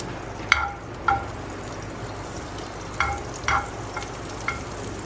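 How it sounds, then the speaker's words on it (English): Pav buns toasting in a little butter on a pan over a low flame, with a soft sizzle and a few sharp scraping and clinking touches spread through the clip. "First we have to toast the bun or the pav. So I'm going to do that with little bit of butter."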